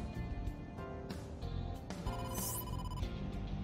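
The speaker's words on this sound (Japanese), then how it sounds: "ボスから電話だ。" Ringing telephone in the mystery adventure game AI: The Somnium Files, a repeated electronic ring pulsing through about four seconds over background game music, fairly quiet.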